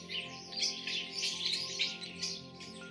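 Starlings chitter in quiet, continuous bursts of high chirping, faint and somewhat distant, with no voices over them.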